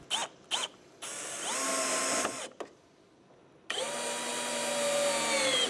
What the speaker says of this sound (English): I attached the board to the bottom brackets using wood screws, 2 per side